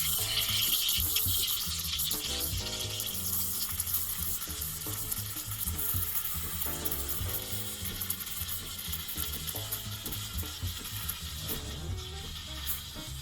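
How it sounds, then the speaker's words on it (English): Steam wand of a Wirsh Home Barista Plus espresso machine frothing milk in a jug, a steady loud hiss with bubbling and sputtering running continuously throughout. "When you hear that hissing sound, it's creating bubbles."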